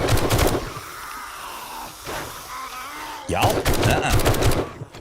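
SMG fire in the survival game 7 Days to Die: a rapid burst of shots, a pause, then a second longer burst, loud and close, with a brief voice between them.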